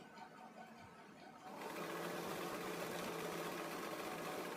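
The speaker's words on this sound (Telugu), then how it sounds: "నేను మిషన్ పొజిషన్ వచ్చేసి జిగ్జాగ్ మోడ్లో పెట్టుకున్నాను." A sewing machine set to zigzag stitch at length 2, hemming a sari edge, starts after a quiet pause and then runs in a fast, continuous mechanical whir close by.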